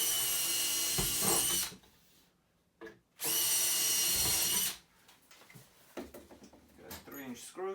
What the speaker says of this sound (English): We're gonna pre-drill our holes.